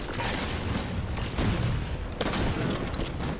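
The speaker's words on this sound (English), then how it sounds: "shotgun." Shotgun blasts in the Halo video game: dense, booming gunfire fills the whole stretch, with a couple of louder reports standing out, alone and with no talking.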